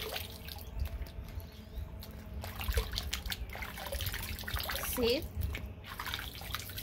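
Water trickling and dripping as white clothes are rinsed by hand with ball of blue in an old-fashioned Jamaican wash, close and steady, with someone talking briefly over it.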